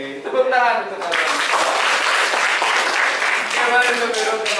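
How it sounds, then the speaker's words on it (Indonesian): Schoolchildren clap together in a classroom, a dense burst of applause that starts after a brief voice and carries on steadily to the end. "tepuk tangan."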